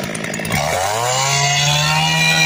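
A Stihl MS382 chainsaw cuts a wood board, its engine loud and close, revving up at about half a second and then holding a steady, high, sustained whine through the cut.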